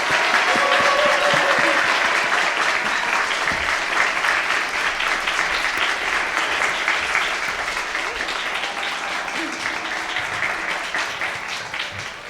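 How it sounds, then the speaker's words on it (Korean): A church conference crowd welcomes a guest speaker with sustained, loud applause that fills the room evenly, tapering only slightly over about twelve seconds, with no talking over it. "여러분이 보낼 수 있는 가장 뜨거운 사랑의 박수로 앞으로 모시겠습니다."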